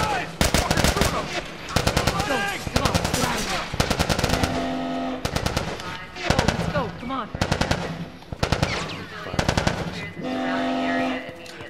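Heavy automatic gunfire from a firefight against Fireflies in The Last of Us, loud rapid bursts crackling almost nonstop with brief gaps, plus a few lower booming shots.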